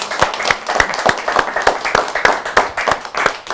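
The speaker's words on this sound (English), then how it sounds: "Everyone give a round of applause for George." Studio audience at a live cooking show clapping for a wine steward, a small group with individual claps standing out in an uneven, close, fairly loud patter.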